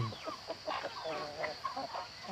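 Egg-laying chickens cluck in a quick, uneven run of short calls, close and moderately loud, with no voices over them.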